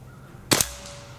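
A single sharp crack from a Beeman Underlever .177 PCP air rifle firing outdoors in wind, a short loud burst standing alone against quiet breezy background.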